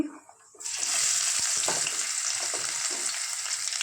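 Bay leaves, whole cumin seeds and onion drop into hot oil for an egg curry, bursting into a loud, steady sizzle after a brief quiet moment, with occasional clinks and stirring sounds over the frying.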